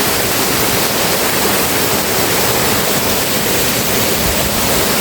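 Waterfall near the source of the Cuervo river, a loud, steady broadband roar of falling water that fills the whole span with no pauses, close and unbroken.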